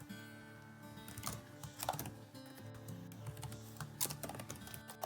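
A computer keyboard clatters with quick, uneven bursts of keystrokes as a short message is typed, close and fairly quiet with no talking.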